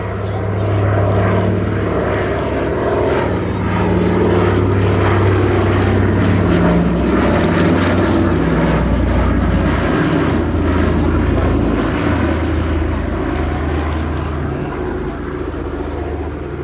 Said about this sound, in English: painted in the colours of an OA-10A rescue Catalina from the US Army Air Forces